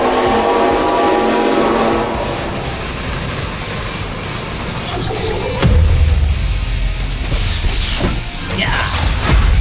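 A steam train sounds alone in a station, with a steady mechanical rumble and hiss building from around the middle into a louder, nearby chuffing surge and a sharp high whistle-like burst near the end.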